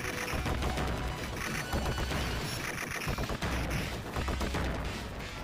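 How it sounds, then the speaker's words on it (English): Explosions from the Teenage Mutant Ninja Turtles arcade game, played on Nintendo Switch, sound as dense, repeated crashes and booms. They run almost nonstop through loud, busy game audio. "These explosions always did look pretty good."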